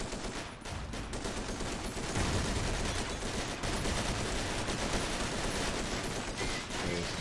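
Tank and small-arms gunfire in the war game Forgotten Hope, a dense, continuous roar of rapid shots and fusillade that stays loud throughout, with no voices on top.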